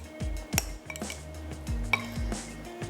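Spiced ingredients, including ground garam masala, are stirred together in a bowl, producing a run of clinks and scrapes of a utensil against the dish at an irregular, brisk pace, close and fairly quiet, with no talk.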